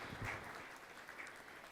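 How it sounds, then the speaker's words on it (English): Audience applause for panelists posing for a group photograph on a conference stage, a dense steady patter of clapping that stays fairly even and moderately faint throughout. "A round of applause while they pose for a group photograph on the stage."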